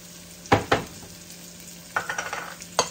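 Garlic and cumin sauce sizzling in a pan, with a soft continuous hiss broken by several sharp clinks and scrapes of a utensil stirring against the pan.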